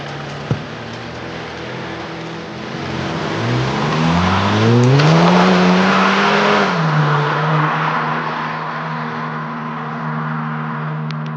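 Engine of a VW Golf GTI TSFI pulling hard under load, its harmonic tone rising and then holding steady as boost builds, loud and close with no talking.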